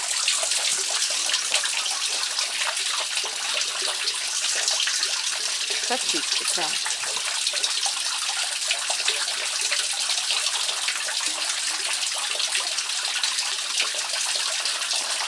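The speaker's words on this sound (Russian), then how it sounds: "Тут водопад." Water rushes and splashes steadily and loudly like a small waterfall, with a brief spoken exchange partway through.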